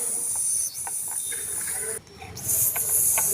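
A chapati roasting on a hot pan sizzles with a steady close hiss, with small crackles and soft taps that briefly dip around the midpoint before returning fuller.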